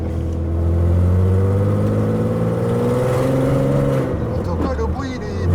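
A Peugeot 206 fitted with a VR6 engine and a leaking exhaust revs up and holds a loud, close drone before easing off, rough and throaty throughout.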